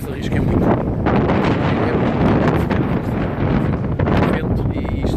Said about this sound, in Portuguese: É vento e isto está que não se pode.